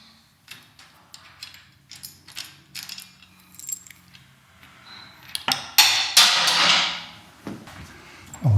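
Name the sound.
screws being removed on a Royal Enfield Meteor 350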